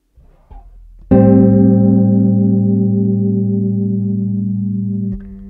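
A few soft low notes on bass guitar, then one sustained bass note rings out with a gentle wavering shimmer from a Boss CH-1 chorus pedal, fading slowly before a brief final pluck.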